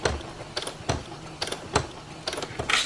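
A sewing machine stitches over old seams on a BumGenius cloth diaper, giving short bursts of rapid mechanical clatter separated by brief pauses, close and moderately loud with no talking.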